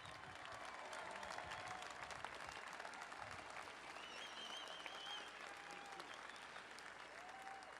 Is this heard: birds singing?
no